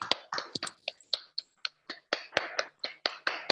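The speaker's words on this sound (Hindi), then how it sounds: "एक बार जोरदार तालियां" Audience applause at an RCM product training event, heard as sparse, crisp individual claps in a loose irregular rhythm, fairly close and moderately loud with no talk over them.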